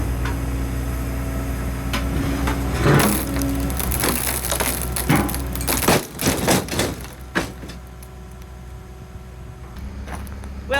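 Stone or concrete lump hurled repeatedly against a Hammerglass window, giving several heavy crunching, splintering impacts with a bending frame, loud and close, spaced over several seconds with no talking.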